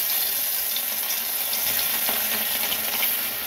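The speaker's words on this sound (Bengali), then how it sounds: "মাছ ভাজার সময় অল্প অল্প তেলে এইভাবে ভাজতে হয়।" Amudi fish fry in a little oil in a pan, giving a dense, steady sizzle that runs loud and unbroken throughout, with faint scraping underneath.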